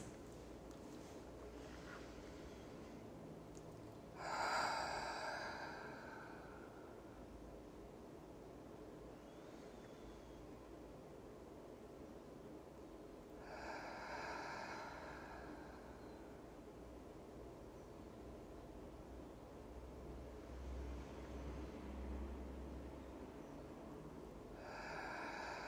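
Slow, deep breaths drawn in a quiet room: a few long, soft inhale-exhale swells spaced several seconds apart, faint and close against a low steady hiss.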